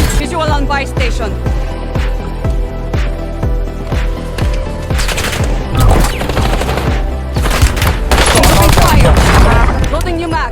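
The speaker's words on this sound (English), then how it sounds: "Coming in at number 4 is the GPMG 7 light machine gun" A GPMG 7 light machine gun fires in Black Ops 6, loud rapid bursts of close automatic gunfire with mechanical clatter and layered game sound effects, continuing without a break.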